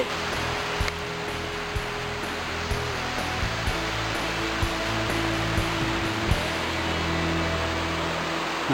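Tier six of Khlong I Dok waterfall sends up a steady, dense rush of falling water. The roar stays at an even level throughout and is heard alone, with no voices.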